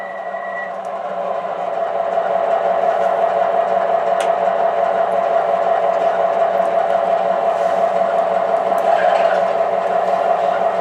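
A steady mechanical hum and rumble of an O gauge MTH Proto 3 model locomotive running along its track under automatic DCC control, loud and close, with faint clicks and a brief high tone at the start.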